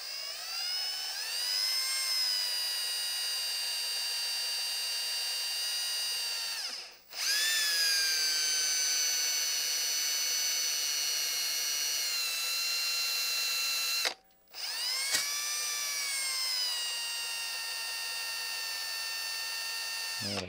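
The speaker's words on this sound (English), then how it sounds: "Now what I'm going to do is I'm going to drill this rivet. It's like a brass rivet." A power drill bores out a small brass rivet on a Brentwood DRF 60 record player under repair, a steady high-pitched whine running alone in long bursts with two brief stops, the pitch sagging slightly as the bit bites.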